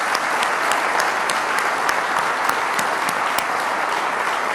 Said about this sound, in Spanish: Y un aplauso para ustedes.